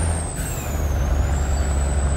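An old-school International truck rolling down the road, a loud steady low engine rumble with road noise and a faint high whine sliding in pitch, without any talking.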